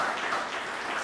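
Short, steady burst of applause from a church congregation, many hands clapping at moderate volume with no voices standing out.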